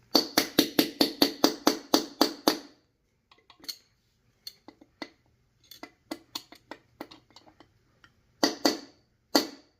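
Sharp metallic hammer taps on a bearing race of a Honda EZ90 Cub in a quick rapid burst, then scattered lighter knocks, and a final pair of strong strikes close by.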